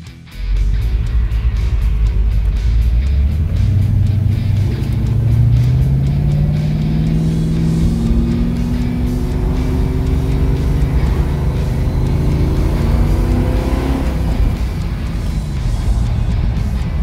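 Holden Torana SS car engine fitted for Bathurst-style racing, a loud close steady drone that revs up in smooth rising sweeps, with no voices.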